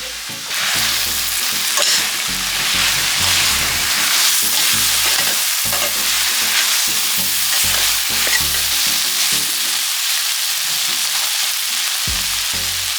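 Noodles sizzle in a hot pan for a steak and vegetable stir-fry, with repeated, rhythmic stirring scrapes over a loud frying hiss that thins out toward the end.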